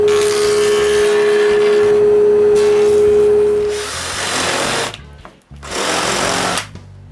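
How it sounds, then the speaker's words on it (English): A jointer planer straightens the sides of bent wood strips for a dog basket, a loud steady machine roar that keeps running, drops briefly, then surges again with a cut. "make the sides straight with the jointer"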